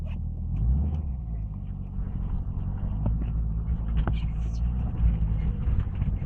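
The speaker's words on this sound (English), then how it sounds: "Give it a bit of choke, because the engine is cold and the oil's 3 years old" Cold old car engine idling on choke with stale three-year-old oil, a low steady rumble close by with slight surges, and someone talking over it.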